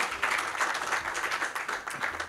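Audience applause at a closing speech of a political event, a steady dense patter of many hands clapping held at even loudness throughout.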